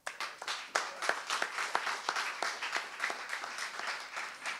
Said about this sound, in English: So an applause for that.